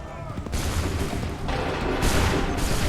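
Musket volleys crack out in the Assassin's Creed Rogue video game, several ragged bursts of massed gunfire that come in waves over a constant battle din.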